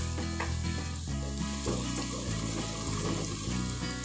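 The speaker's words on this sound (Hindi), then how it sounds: "और इसको भी फ्राई कर लेंगे प्याज के साथ।" Onions and green chillies fry in a pan for moong dal, a soft sizzle sitting under a loud, continuous layer of music.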